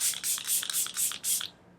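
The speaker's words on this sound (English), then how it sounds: "I'm gonna spray my face again with the Milk Spray." A milk face mist spray is pumped onto a face in five quick, close, hissing bursts in an even rhythm, then stops.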